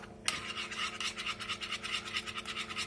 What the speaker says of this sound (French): comme là je vais le faire à la cuillère